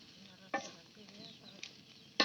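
Spices and water spinach cooked with dried fish, stirred in a pan, a faint soft sizzle punctuated by three sharp scraping strokes of the utensil, close and otherwise quiet.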